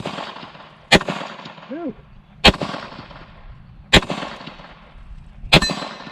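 Four sharp gunshots from an SCT-19 project gun ring out at even intervals, each followed by the clang of a small steel plate target. A brief exclamation is heard between shots.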